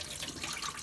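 A kitchen faucet runs steadily into a sink as frozen chitterlings are rinsed, a continuous close hiss of flowing water with no talk.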